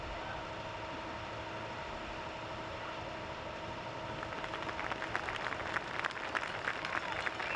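A stadium crowd at a high school boys varsity playoff soccer game applauds an injured player being taken off on a stretcher. The clapping swells from a faint wash into a steady spatter of distant applause.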